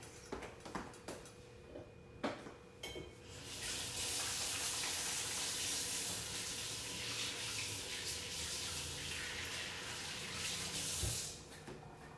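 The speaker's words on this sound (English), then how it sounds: "wash the hands" Tap water runs steadily as hands are washed in a home kitchen during a cannabis cooking class, a faint hissing stream that begins after a few soft clatters and ends abruptly.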